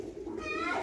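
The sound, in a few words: pigeons cooing at a pigeon sale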